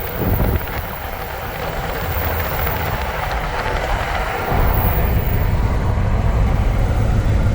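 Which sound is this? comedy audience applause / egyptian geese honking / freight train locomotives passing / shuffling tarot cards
freight train locomotives passing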